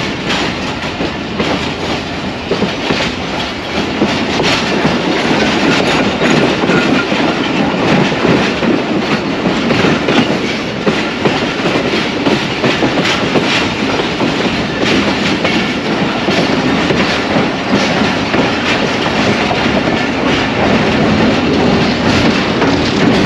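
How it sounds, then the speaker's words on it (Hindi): A train runs along the ML3 main line in Sindh, Pakistan, near Sukkur, producing a loud, steady rumble with continuous wheel clatter and a broad roar of rolling stock that holds for the whole stretch. "अब हमारी ट्रेन ML3 पर हो गई है"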